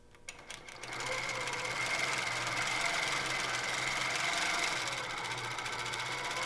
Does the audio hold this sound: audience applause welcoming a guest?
no